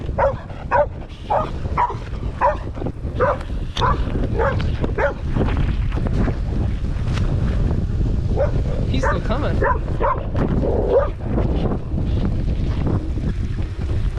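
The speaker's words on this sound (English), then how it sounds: "We got some dogs coming up." Dogs bark in repeated bursts at middle distance over strong wind and a running boat motor, with someone speaking briefly.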